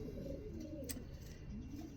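A racing pigeon in a loft coos in low, throaty rolling calls, close and fairly soft against a busy background of other birds and ambient noise.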